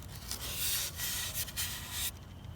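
A tool cuts through rigid foam insulation board with a soft, close, hissing rasp that comes in several bursts and short pauses, fairly quiet overall.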